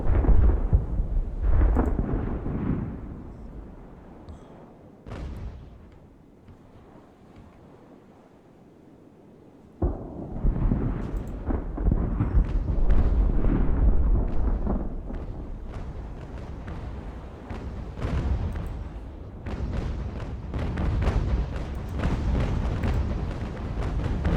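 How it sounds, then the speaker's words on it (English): Sailing warships firing their cannons in a naval battle in Ultimate Admiral: Age of Sail, with dense rumbling booms and broadside blasts over a roar of wind and sea, heavy at first, a quieter lull, then loud bursts again. "There's no way they could possibly be firing all those guns."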